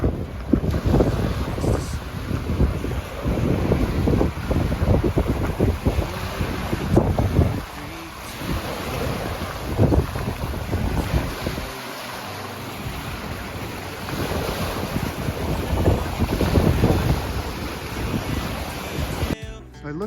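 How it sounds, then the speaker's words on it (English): Strong wind buffets the microphone on the shore of a big lake at Hudson Bay, Quebec, with waves washing in steadily underneath; loud, continuous gusting with rougher bursts throughout and no voices. "look at those waves."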